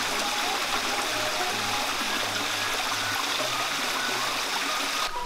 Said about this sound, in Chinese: 大美还特意在水上平台处架设了一道竹筒水管